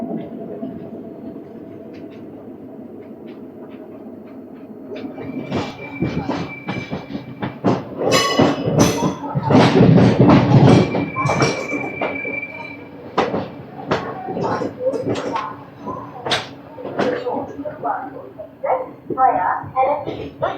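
The Guruvayur Express pulls into platform 1, wheels clattering over rail joints with sharp metallic squeals and brake screeches rising loud and close, a low rumble underneath, while people talk nearby.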